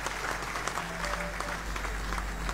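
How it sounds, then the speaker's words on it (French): An audience at a speech event bursts into sustained applause, dense continuous clapping with a low crowd murmur and a faint background hum. "Sous vos applaudissements, s'il vous plaît."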